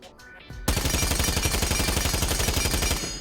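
Rapid, steady automatic fire from the ALDA 3 machine gun in Rainbow Six Siege, loud and close, a continuous stream of evenly spaced shots after a brief lead-in.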